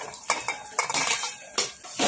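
Spoon scraping and clinking against a metal pan while cabbage muthiya with sesame seeds and curry leaves is stirred, a few quick close metallic strokes in bursts.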